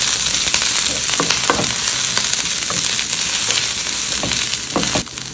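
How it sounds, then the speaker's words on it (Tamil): Onion and green chilli sizzle and fry steadily in a pan while being stirred, with repeated scraping stir strokes over the continuous loud hiss; no talking. "வெங்காயத்தை லைட்டாக கிளறி விட்டுறேன்"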